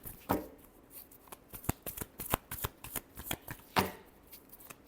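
Tarot cards riffled and shuffled by hand for a love reading, a run of crisp, close flicking snaps with a few louder slaps, alone without talk.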